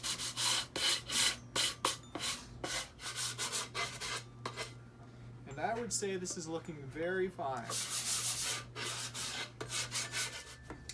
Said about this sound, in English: have a little sanding block, do a little sanding of the edges